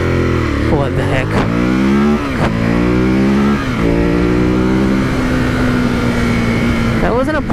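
A 2018 Ducati Monster 821 accelerates hard, heard up close and loud as the engine climbs repeatedly in pitch, with quick dips at each of several upshifts over steady wind rush.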